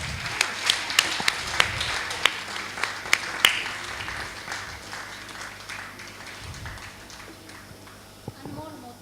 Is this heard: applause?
yes